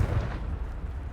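A Confringo blasting spell explodes in Hogwarts Legacy, a heavy low boom with a rumbling burst that fades over about a second, loud and close with no talk.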